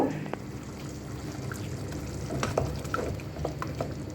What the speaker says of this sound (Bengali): এখন পাস্তাটা শুধু দিয়ে দিব